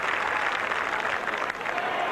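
A rugby league crowd at a St Helens versus Australia Kangaroo Tour match gives a steady roar of cheering and applause, dense and continuous for the whole brief stretch.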